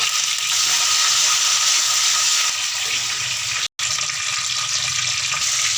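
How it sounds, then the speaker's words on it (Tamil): Fenugreek, cumin, small shallots and curry leaves fry in hot oil for fish curry, giving a loud, continuous close sizzle and hiss that drops out briefly for a moment before resuming just as strongly. "எண்ணெய் சூடாகிடுச்சி வெந்தயம் போட்டுக்கும் ஜீரகம் போட்டுக்கும் சின்ன வெங்காயம் ஒரு பிடி போட்டுக்கும் கருவேப்பிலை போட்டுக்கும்"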